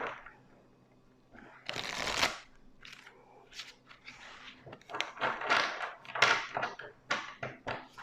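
Tarot cards being shuffled and handled up close make repeated crisp riffling bursts and soft slaps in uneven rhythm, fairly quiet, with brief pauses between.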